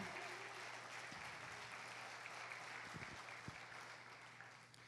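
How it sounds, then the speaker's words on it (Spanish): A church congregation applauding the Lord during a family service, a steady wash of clapping heard from a distance, fairly faint, with a few sharper thumps and a low hum behind it. "Dale un fuerte aplauso al Señor."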